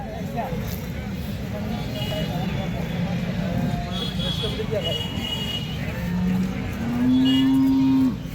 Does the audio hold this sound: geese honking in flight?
no